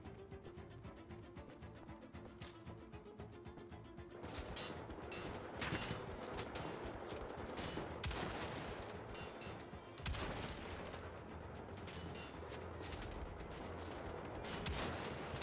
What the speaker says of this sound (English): Thank God for this turret.